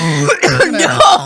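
Someone coughs and splutters several times in quick bursts, close and loud, mixed with laughing and voiced breaths.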